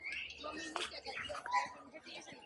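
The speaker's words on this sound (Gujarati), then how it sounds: "જો હવે તો અલગ અલગ કેટલાય પક્ષી છે અહીંયા." Birds in a zoo bird house chirp and tweet in short overlapping calls, with an occasional soft coo and a brief flutter, faint and somewhat distant.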